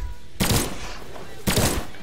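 Gunfire in a video game fight pitting spears against guns, two loud broadband bursts about a second apart, each lasting a fraction of a second, over low background noise.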